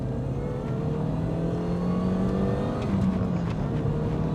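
A supercharged Mini Cooper S R53 engine revs up, a loud, steady engine note with a rising whine building over the few seconds.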